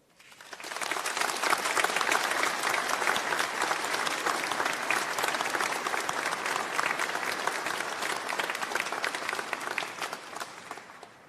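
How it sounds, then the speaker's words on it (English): Sustained applause from a large audience at a university graduation ceremony, a dense, even roar of clapping that rises quickly, holds steady for about ten seconds, then eases away. "in a round of applause, give thanks to all of those who supported you personally"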